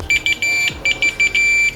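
A multimeter continuity buzzer sounds in short, high-pitched beeps, some brief and some held, with small gaps between them, while testing a combi boiler fan motor.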